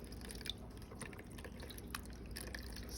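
Water trickles and drips faintly from squeezed paper pulp being prepared for handmade seed paper hearts, with soft irregular patters close by and no speech.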